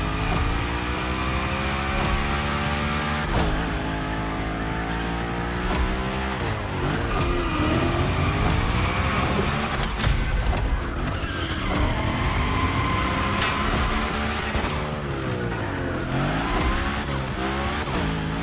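The Hoonigan gymkhana car drifts hard in The Crew Motorfest: a loud, continuous engine rising and falling in pitch, with long tire squeals and brief drops as the driver shifts and changes direction.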